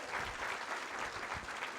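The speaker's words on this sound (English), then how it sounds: "Can we please have a round of applause for him?" Audience at a literature festival session applauds a Hindi teacher, a faint, even patter of many hands clapping from a distance, steady throughout with no voices on top.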